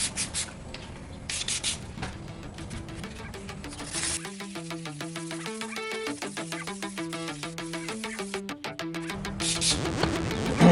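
A sanding block wet-sands a car headlight lens in steady back-and-forth strokes, a rhythmic close rubbing rasp that stays clear and alone.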